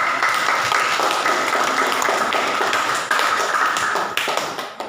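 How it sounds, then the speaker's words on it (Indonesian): Students in a grade 9 classroom clap together after a group finishes presenting its discussion results, a dense, steady burst of applause lasting throughout and fading slightly near the end, with no talking over it. "Silakan tepuk tangan dulu."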